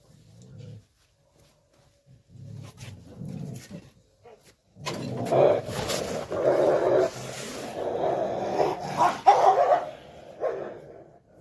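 A dog barks and growls in bursts close by, with quieter whimpering sounds at the start before the louder barking kicks in.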